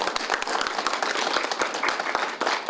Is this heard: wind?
no